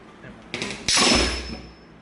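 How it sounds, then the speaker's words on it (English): Bolt cutters pressing through EVA foam while making a foam medieval mace, a short squeeze-and-crunch building to a loud close snap that rings and fades over about a second. "We're gonna come in with our bolt cutters."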